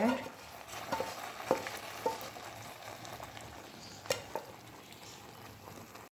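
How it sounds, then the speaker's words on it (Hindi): Sugar syrup poured into khoya kheer and stirred in a pot, with a soft, steady bubbling sizzle and a few louder scraping clinks of the spoon, close and without talk. "अब जो शुगर सिरप मैंने रेडी करके रखा हुआ है मैं खीर में ऐड कर दूँगी सारा"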